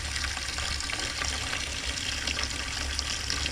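Steady water running from a tap, filling a bath for a pet lizard; a continuous, even broadband rush at close range with no voices over it.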